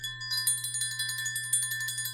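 A bright ringing bell sound effect is struck in a rapid series of repeated dings, clear and close over a steady low hum.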